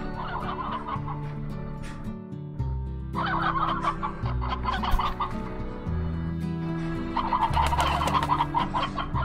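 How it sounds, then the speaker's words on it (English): Chickens cluck and chatter continuously in the video game Slime Rancher over a low, steady background tone, several birds overlapping at a moderate volume. "Do these chickens need fed?"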